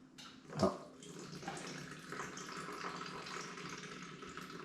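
Milk pours steadily into a cooking pot with a soft, continuous splashing, quiet and close, after a brief knock at the start.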